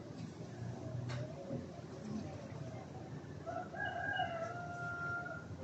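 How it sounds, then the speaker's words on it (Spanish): Roosters crow outdoors at moderate distance, several drawn-out calls overlapping against a steady noisy background with faint clucking. "Oiga los gallos, así que miren, los animales están en sintonía."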